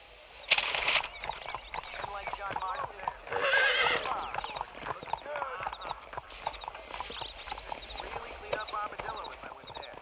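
A horse in the video game Red Dead Redemption neighs and whinnies while hooves clip-clop, with bird wing flaps and someone speaking over it, moderately close and fairly quiet.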